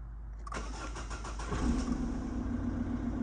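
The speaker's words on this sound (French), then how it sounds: "on va démarrer le moteur maintenant pour voir ce que ça donne" A Peugeot 207 diesel engine starts after a brief silence: a few rapid cranking pulses, then it catches and settles into a steady, moderately loud idle, with no talk.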